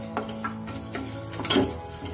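Whole spices with mace and asafoetida frying in a pan, giving a quiet sizzle broken by a few sharp stirring scrapes and clinks of a utensil, with no voices.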